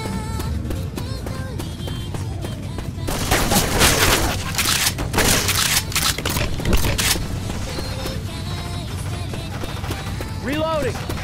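Gunfire rattles out in Left 4 Dead 2 as a machine gun fires in dense bursts, loudest in the middle stretch, with game effects and a player talking over it.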